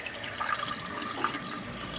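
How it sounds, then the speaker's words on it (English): Warm water runs from a tap into a sink while a bird is washed during taxidermy preparation, a steady, fairly quiet hiss and splash lasting throughout. "Put some warm water here"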